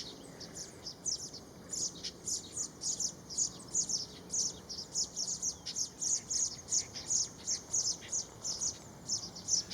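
Weaver birds call near their woven reed nest in a Thai rice field, a steady run of rapid, high chirping bursts repeating through the whole stretch over a faint background hiss, with no voices.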